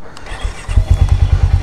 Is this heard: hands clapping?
no